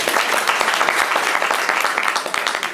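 Audience clapping at a poetry event, dense and continuous applause from a crowd, close and loud throughout the short stretch.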